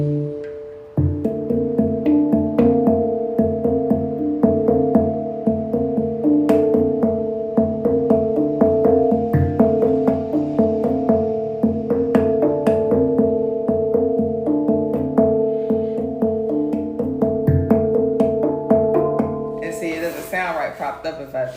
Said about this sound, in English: hang drum